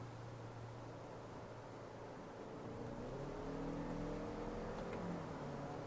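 A 2023 Suzuki Across plug-in hybrid's engine hums steadily from inside the cabin, then its pitch rises and swells after a downshift into third, a smooth muffled drone with no talk.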